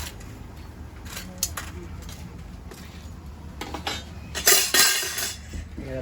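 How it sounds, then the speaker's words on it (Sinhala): A knife cuts through crispy chicken pieces at a street food truck in Moratuwa, Sri Lanka, making a few scraping, clinking strokes against a board or pan, with a louder burst near the end and kitchen noise with faint voices around it. "අපි crispy chicken තමයි use කරන්නේ එක කපනවා"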